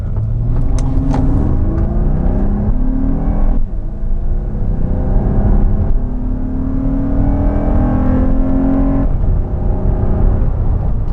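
A third-generation Honda Odyssey minivan accelerates hard into VTEC, its engine loud and close with rising revving tones that climb, drop at each gear change and climb again, no talking over it.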